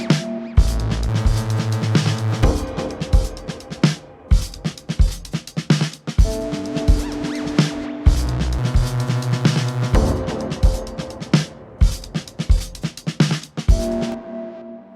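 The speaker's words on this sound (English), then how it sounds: "So it's just that 8-bar loop for now." A slow breaks-style dub loop around 128 BPM plays on its own, with punchy chopped drum hits, deep sub-bass pulses and repeating tonal stabs cycling through eight bars.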